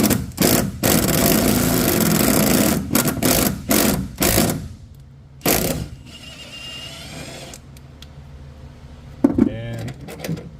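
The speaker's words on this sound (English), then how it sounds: "when you tighten this bolt through, it'll actually mushroom the bottom side of the plus nut" A power tool whirs loudly in long bursts as a bolt is driven through a plus nut during a truck bed slide installation, then drops to quieter intermittent clicks and rattles.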